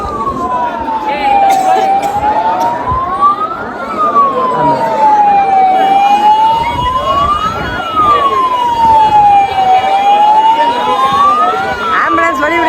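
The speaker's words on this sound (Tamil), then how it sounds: "ஆம்புலன்ஸ்லாம் வருதுங்க." Ambulance siren wailing in slow rising and falling sweeps as it pushes through a dense crowd stuck for hours at a crowded worship site, steady and fairly near under constant crowd chatter and engine rumble.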